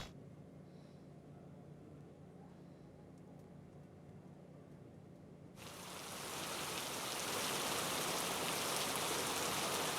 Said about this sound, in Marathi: पालघरच्या बोईसरमध्येही मुसळधार पावसानं थैमान घातलंय